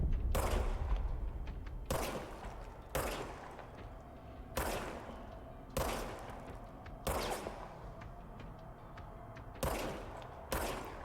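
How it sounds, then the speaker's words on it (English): Repeated bursts of machine gun fire in the video game Control, about nine sharp loud volleys spaced roughly a second apart, each trailing into a short decay, with no talk over them. "Now I have a machine gun."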